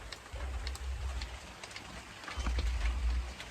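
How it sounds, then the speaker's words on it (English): Rain falls outdoors in a yard by a privacy fence as a steady soft hiss with scattered drop ticks, and a low rumble swelling beneath it at the start and end. "But it has started raining."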